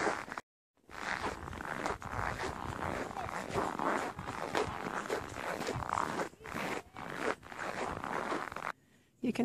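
Footsteps of someone walking outdoors on a tourist outing in Norway, a steady crunching shuffle of repeated steps, fairly close and moderately quiet, with brief gaps of silence and no talking.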